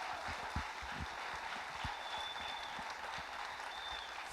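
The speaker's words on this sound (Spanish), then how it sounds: "Denle un aplauso al Señor por eso." A church congregation applauds at a Sunday service, a steady, dense wash of clapping from many hands that fills the room for several seconds without pause.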